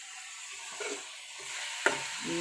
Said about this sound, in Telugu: కొత్తిమీర అమ్మా ఒక ఐదు నిమిషాలు వేగాలండి